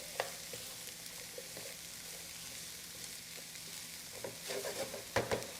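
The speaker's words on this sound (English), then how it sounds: "we're going to give this a good stir" Squash succotash stirred in a pan, giving a steady low sizzle with soft scraping strokes that grow louder and busier toward the end, with no talk over it.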